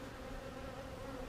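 Honeybees buzz steadily at an open hive during an early March routine inspection, a quiet, even drone with a faint steady hum and no talking.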